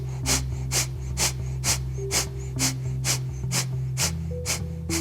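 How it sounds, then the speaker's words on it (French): Rapid breath of fire during a kundalini yoga kriya: about ten forceful, evenly spaced nasal exhalations in quick rhythm, close and clear over a steady low musical drone. "Respiration du feu."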